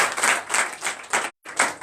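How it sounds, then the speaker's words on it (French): A church congregation at a Sunday worship service applauds in a short burst of dense clapping that breaks off for an instant and then resumes. "Donnez encore l'acclamation."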